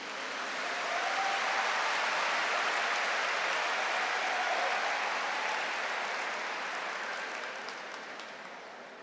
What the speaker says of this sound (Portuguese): Aplaude esse Deus maravilhoso.